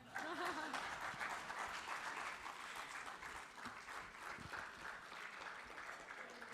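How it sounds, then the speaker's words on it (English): An audience claps at the close of a panel session at a Hyatt Regency event, a loud, sustained wash of applause that eases slightly midway, with a voice briefly audible near the start. "Even if you don't, please clap."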